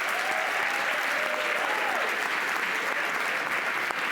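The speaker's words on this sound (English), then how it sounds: "Can we give them a round of applause?" An awards-ceremony audience applauds sports award winners, dense, loud and sustained clapping from a large crowd filling the room, with faint voices underneath.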